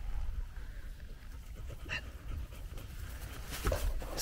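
A hunting dog pants softly and steadily after retrieving a bird during field training, close by, with a brief whimper or sniff and light rustling, no talking.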